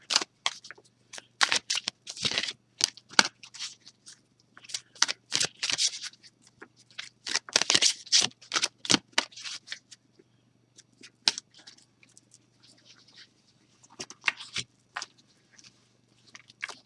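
Oracle cards being shuffled by hand before a single card is drawn at random: dense, rapid rustling and riffling bursts for about ten seconds, then sparser, softer card sounds, close and alone without talk.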